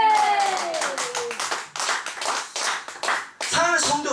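Congregation clapping at a Korean revival worship gathering, bursts of brisk hand claps rising and dipping, with a voice speaking over the start and shouting near the end.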